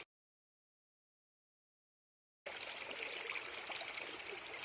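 Water streams steadily through a gold sluice box during cleanout on New Zealand's West Coast. The flow starts abruptly after a silent opening and keeps up as an even, fairly faint rushing trickle.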